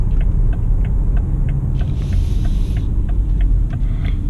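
A 2019 BMW X4 xDrive 20d M Sport with its 2-liter diesel heard from inside while driving, a steady loud engine and road rumble with faint periodic ticks over the top.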